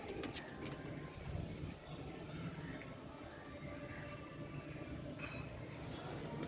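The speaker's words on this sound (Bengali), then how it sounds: "পায়রা সিঙ্গেলা আছে একটু ভয় পাচ্ছে" Domestic pigeons, Andhra breed, coo softly in a low, faint murmur beneath quiet ambient noise, with a few brief flutters and knocks near the start.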